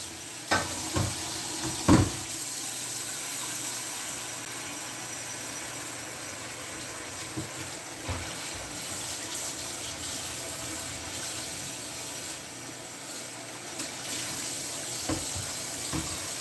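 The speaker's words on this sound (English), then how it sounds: "put this in the sink with some hot water" Hot water running from a kitchen tap into a sink, a steady soft hiss lasting throughout, with a few brief clunks and knocks of dishes near the beginning and scattered later.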